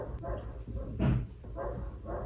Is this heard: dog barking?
yes